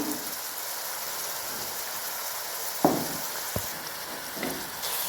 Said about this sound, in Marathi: बेसनला पण आपल्याला तेलामध्ये छान असं भाजून घ्यायचे, परतून घ्यायचे छान असं